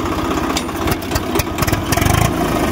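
A Swaraj tractor engine runs close by and revs hard, its rapid, pulsing diesel chug rising in bursts and holding loud and steady, with no voices over it.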